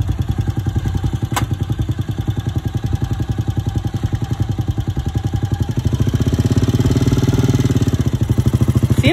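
A boda boda motorcycle in Kenya runs close by with a steady rhythmic putter and clatter, and the engine swells slightly louder toward the end.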